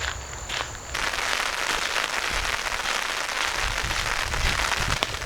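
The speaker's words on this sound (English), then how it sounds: "now it starts to rain" Rain begins falling during an outdoor walk, a dense, loud hiss of drops on surfaces that sets in after a brief quieter moment and continues steadily.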